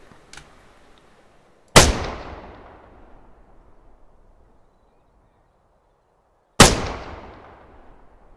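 Two loud, sharp gunshot reports from ArmA 3 with the JSRS sound mod ring out several seconds apart, each decaying in a long echoing tail, with a faint click before the first.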